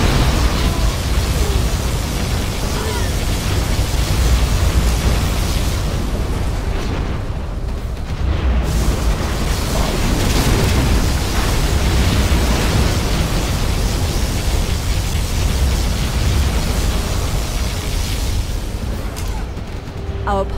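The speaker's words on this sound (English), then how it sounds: "Our particle cannon has been activated." Particle cannon strikes in Command & Conquer Generals Zero Hour land as a continuous, loud wash of rumbling explosions and booming noise lasting the whole stretch, with game voices mixed in.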